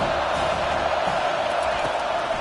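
Football stadium crowd cheering its defense on third down in a college league game, a continuous loud wash of roaring voices, steady and distant-sounding, with talk mixed in.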